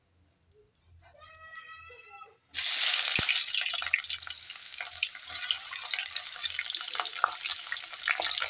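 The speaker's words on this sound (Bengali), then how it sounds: "জিরাটা হয়ে গেছে গরম, জিরে ফোড়ন দিয়ে দিলাম" Cumin seeds dropped into hot oil for tempering burst into a loud, steady sizzle that starts abruptly and holds through the rest, after a few quiet clinks and a soft, harmonic cat-like sound.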